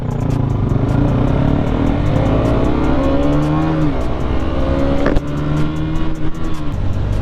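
A 2021 KTM Duke 125 motorcycle on the Col de Vence mountain road revs hard and close, its engine note climbing and falling through a few rising sweeps over a steady loud rumble, with a sharp mechanical crack partway through.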